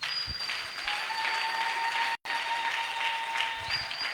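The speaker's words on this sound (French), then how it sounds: "Est-ce qu'on peut acclamer pour le Seigneur?" A church congregation applauds for the Lord with continuous, even clapping, a faint high tone running beneath and a brief gap partway through.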